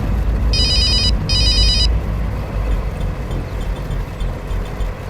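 A telephone rings in two short bursts of electronic trilling over a steady engine-like rumble, fairly close and clear.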